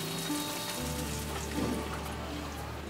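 A cup of water goes into oil-separated, cooked-down masala in a pan, giving a continuous close hiss and bubbling sizzle over a low steady hum, with no talking.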